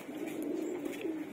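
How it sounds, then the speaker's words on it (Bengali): Young and female Giribaz pigeons resting in the sun coo continuously in a low, throaty drone, close and fairly steady, with a few faint twitters mixed in and no voices. "বাচ্চা কবুতরগুলো, এই যে মাদি কবুতরগুলো"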